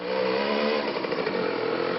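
A small Romet moped engine buzzes steadily at close range, a high, raspy drone that holds constant without pause.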